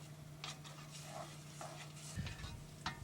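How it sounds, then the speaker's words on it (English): Shrimp, rice and okra with paprika and hot sauce get stirred in a pot, the spoon scraping in a few separate strokes over a low, steady sizzle. "give that a stir."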